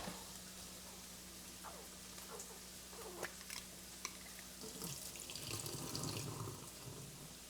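Water from cooked potatoes pours and splashes into a kitchen sink as they drain, a faint, steady running sound with scattered small clinks and no talking.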